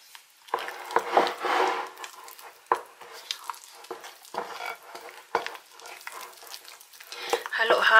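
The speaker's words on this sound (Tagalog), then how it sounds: "Halo-halo lang siya, guys, kasi matagal-tagal siyang haluin." A spoon stirs thick strawberry fudge mixture in a pot with steady scraping and sloshing strokes, close and moderately loud, and a faint sizzle runs beneath.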